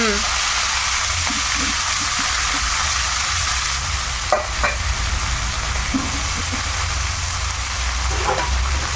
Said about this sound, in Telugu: ఇదిగమ్మ పాలకూర వేసేస్తున్నాను.